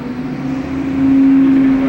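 A bus rumbles past outside, its steady engine drone swelling louder toward the end with a sustained whining tone, heard indoors with no voices.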